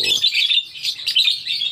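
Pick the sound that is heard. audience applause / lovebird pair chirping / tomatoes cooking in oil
lovebird pair chirping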